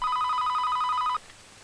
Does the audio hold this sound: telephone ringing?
yes